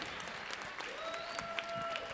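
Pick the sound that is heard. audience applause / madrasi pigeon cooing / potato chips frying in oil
audience applause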